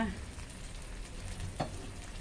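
Thai sweet-tamarind sauce for son-in-law eggs bubbling in a pan, a soft steady simmering hiss with one brief clack partway through, close up and with no talking.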